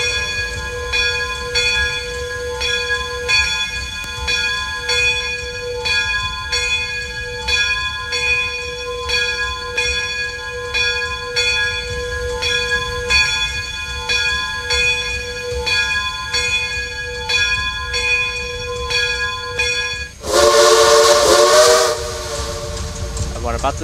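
A steam locomotive's bell in the Trainz railway game clangs in a steady, evenly spaced rhythm for about twenty seconds, then a loud burst of hissing steam cuts in over it near the end.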